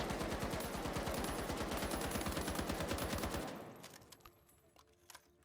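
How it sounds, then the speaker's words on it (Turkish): An M60 machine gun in the video game The Finals fires a rapid, continuous burst for about three seconds, loud and close, then stops and leaves faint scattered clicks and game noise. "Bu bildiğin M60 70 tane mermi var."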